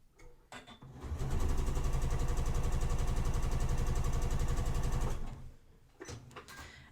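A sewing machine chain piecing a patchwork quilt block for a lattice design runs steadily for about four seconds, a continuous close mechanical whir with quieter handling sounds before and after.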